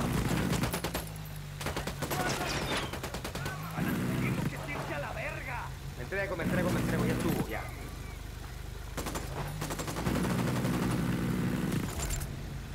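Gunfire in Ghost Recon, several loud clusters of sniper-style shots and bursts separated by quieter gaps, with voices talking over parts of the action.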